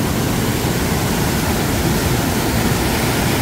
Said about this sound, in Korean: 그냥 유속이 빠른 정도가 아니라 폭포네요, 여기.